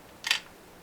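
A single sharp camera shutter click at a fast shutter speed, close and brief, set against quiet room tone.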